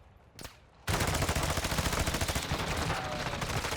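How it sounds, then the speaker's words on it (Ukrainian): A single shot rings out, then rapid sustained automatic gunfire rattles loudly and continuously in a dense burst, from Call of Duty: Modern Warfare II Warzone 2.0 DMZ at Ashika Island port. "Стріляє по мені з корабля, з корабля десь."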